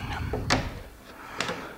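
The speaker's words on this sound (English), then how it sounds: "close the door." A wooden corner cabinet door, hung on solid brass screws, swings shut in a workshop, giving two soft knocks about a second apart against a quiet background.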